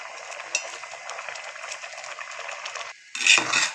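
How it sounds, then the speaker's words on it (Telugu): A spoon stirs rice into vegetables in a pot for multi-vegetable biryani, giving soft continuous scraping and rustling up close, ending in a sharper, louder clatter of utensil against pot. "రైస్ వేసేసుకొని ఒకసారి ఇలాగా కదుపుకొని"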